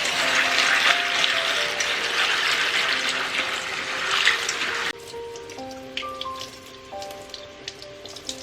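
Dry red beans being rinsed under running water, a steady splashing, rain-like rush that drops away midway to lighter, scattered trickles and drips.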